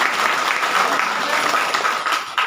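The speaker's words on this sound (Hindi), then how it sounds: "हम चाहते हैं एक बार हमारे डॉक्टर लिम्सोजिन के लिए जोरदार ताली होनी चाहिए" Steady crowd applause at a DXN branch meeting in Mandar honoring Doctor Lim Siew Jin, many hands clapping densely and evenly for the whole stretch.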